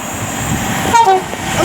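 A Pendolino passes through Milton Keynes Central station on the West Coast Main Line under a loud, broad rail rumble, with a brief two-tone horn sounding near the middle of the pass.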